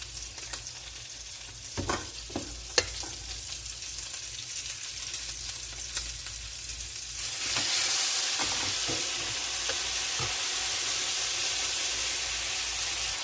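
Steak fries in a very hot pan with a steady close sizzle, punctuated by a few crackles and pops, and the hiss swells louder partway through as the meat settles in.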